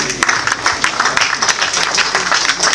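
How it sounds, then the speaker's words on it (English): Standing applause from the audience at a 65th birthday lecture, brisk close clapping from many hands, loud and continuous through the short stretch, with some voices underneath. "start by standing up and giving him a round of applause"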